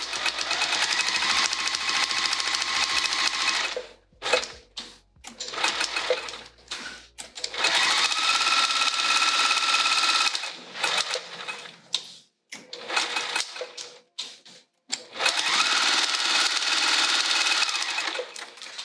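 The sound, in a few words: sewing machine quilting vinyl with foam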